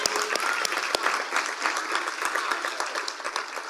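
Audience applause at a city State of the City luncheon, a steady patter of many hands clapping at close range with a few sharper individual claps, continuing throughout.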